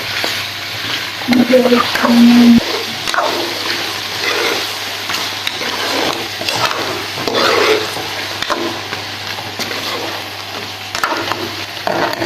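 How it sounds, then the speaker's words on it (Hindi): Tinda (apple gourd) and mutton roasting in a pot for tende gosht, a loud, continuous close sizzle with bursts of spattering and scraping as the mix is stirred, voices absent. "2 मिनट भुनाई के बाद अब हम इसमें टिंडे जो ऐड कर देंगे। जो अच्छे तरीके से इसको भून लेंगे"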